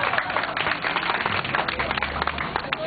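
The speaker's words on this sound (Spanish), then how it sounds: "Un aplauso." A crowd at an outdoor campaign rally in Mazatlán, Sinaloa claps for a raffle winner, a patter of scattered, uneven hand claps of moderate loudness, with crowd murmur and voices underneath.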